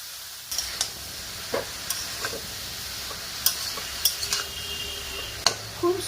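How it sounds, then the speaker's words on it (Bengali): Chopped vegetables fry with spices in a pan under a low, steady sizzle, broken by occasional spatula scrapes and light clinks against the metal, close and fairly soft, with no talking. "সবজিটা মশলাকে কিছুক্ষণ কষে নেব।"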